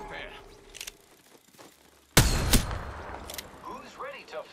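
Gunfire in a shooter video game: a sudden loud burst of a few sharp close shots midway, followed by rumbling echo, with voices talking over the quieter stretches.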